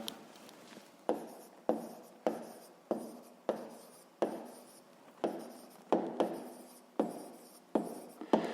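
A pen writes an answer on paper in a sixth-grade maths exercise, giving a quiet, close series of about a dozen sharp strokes and taps in an uneven rhythm, with no one talking.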